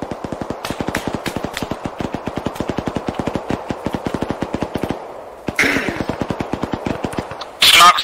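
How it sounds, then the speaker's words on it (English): Rapid automatic gunfire from Arma 3 in long, dense bursts of sharp shots, loud and close, broken by a short pause before more firing resumes, with a sudden louder blast at the very end. "Snark, stop shooting for 5 seconds."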